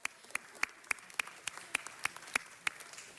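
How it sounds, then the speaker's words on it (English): Sparse, evenly spaced claps ring out in a quiet hall at a city council meeting, a faint, thin round of applause with single sharp hand claps spaced about a third of a second apart. "Let's give them a huge round of applause."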